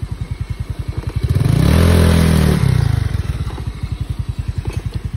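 Motorcycle ridden over a rough, muddy trail: the engine thumps in a steady pulse, swells into a loud rev for a couple of seconds, then settles back into chugging, with clatter and scraping over the ground.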